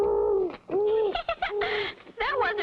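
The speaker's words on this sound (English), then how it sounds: "It was a little bitty old owl" A tiny cartoon owl gives a string of soft, wavering hoots and coos, several short calls close together with brief gaps, near and fairly loud, with no talk over them.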